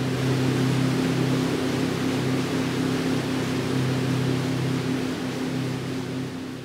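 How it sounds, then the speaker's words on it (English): A motorboat engine runs steadily on the water, a constant low hum with a strong drone under broad rushing water and wind noise, loud and unbroken throughout. "A motorboat is also called a speedboat or a powerboat."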